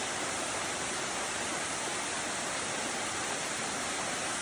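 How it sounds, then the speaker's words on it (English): Water pours over an entire rock face at a waterfall in Colorado Bend State Park, Texas, a loud, steady broadband roar heard up close with no other sounds. "Apparently this is one of the main falls, but it's just the whole rock face has water pouring over."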